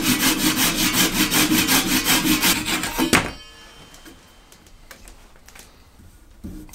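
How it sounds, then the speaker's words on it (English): Hand saw cutting off the excess end of a wooden axe handle protruding above a vintage axe head, a steady loud rhythmic rasp of strokes for about three seconds, then stopping, followed by faint knocks and small handling sounds. "so now let's saw it off"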